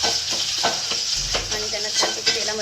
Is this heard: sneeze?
no